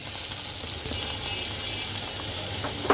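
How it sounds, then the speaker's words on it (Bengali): Cumin with ginger paste and onion frying in hot oil gives a steady, close, even sizzle that holds alone without voices, ending in one small clink. "জিরাটাকে একটু সুন্দর করে ভেজে নেব"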